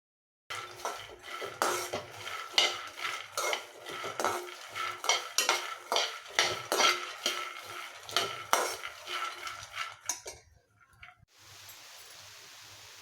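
Peanuts are dry-roasted in a pan and stirred with a metal spoon, giving a close series of rhythmic scraping and clattering strokes before a soft steady hiss takes over at the end.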